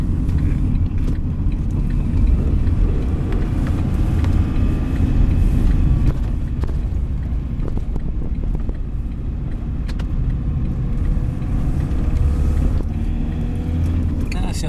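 Buses idling at a congested bus terminus, a steady low diesel rumble filling the scene throughout, close and continuous, with faint chatter underneath.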